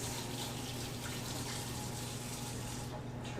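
Tap water runs steadily into a sink while hands are rinsed, a constant close hiss and splash with a faint hum beneath, easing off right at the end.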